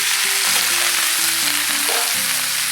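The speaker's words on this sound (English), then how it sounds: "Next, add in the pork ribs." Pork ribs sizzling loudly in a hot pan with ginger and green onions, a dense steady crackle of frying with occasional stirring scrapes, close and without speech.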